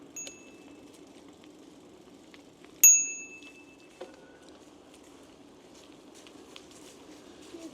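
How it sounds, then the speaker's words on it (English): A bicycle bell on a countryside bike ride gives a couple of quick rings, one clear bright ding standing out loudly above quiet road and wind noise, followed by a faint after-tick. "I even managed to get the bell with my little finger."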